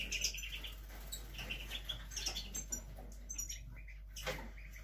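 A caged pine grosbeak, a bullfinch and three redpolls chirp indoors with scattered soft, high tweets spread through the moment over a low steady hum, fairly quiet overall.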